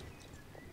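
A horse's hooves clop in a quick, faint rhythm as it is ridden in the online game Star Stable, over a brief stretch with no talking.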